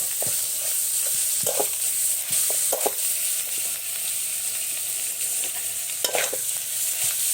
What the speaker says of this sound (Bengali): এই দেখেন এভাবে নেড়ে দিবেন